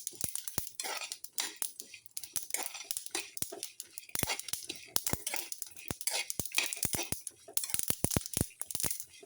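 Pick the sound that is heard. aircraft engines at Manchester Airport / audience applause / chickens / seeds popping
seeds popping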